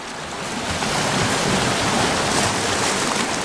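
Sea waves wash onto the rocky shore on the Isle of Skye near Elgol, a loud close rush of surf that swells and sustains as the water surges in.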